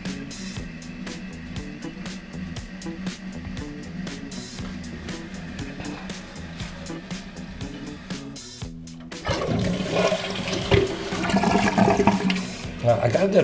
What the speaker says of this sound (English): I got a good flush, but I had to hold it up a second, so I definitely need to adjust my float some.